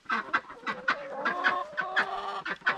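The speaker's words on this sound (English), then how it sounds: "Hi, chickens." Chickens on an off-grid homestead cluck in a rapid, uneven run of short calls, close and fairly loud, with no talking.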